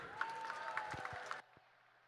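A short burst of scattered clapping from a modest crowd at a swim meet, cutting off abruptly partway through and leaving a quiet room.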